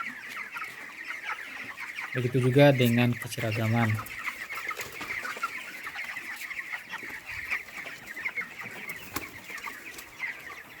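A busy flock of 23-day-old broiler chickens clucks and chatters steadily, with one louder call near the start and a person talking briefly over it.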